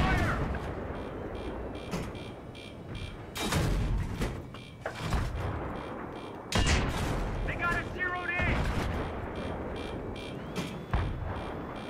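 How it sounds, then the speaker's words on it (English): Battlefield 3 combat during a tank ambush: repeated heavy gunshots and booming blasts arrive in bursts, loud and close, with shouting voices in between. "We're taking fire!"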